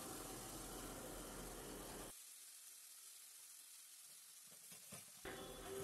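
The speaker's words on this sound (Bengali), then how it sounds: "তো মাছটা ভালো করে নাড়িয়ে দিলাম" Bombay duck fish in a pan gives a loud, steady frying sizzle for about two seconds, then a quieter hiss with scattered stirring scrapes, and a brief louder sizzle at the end.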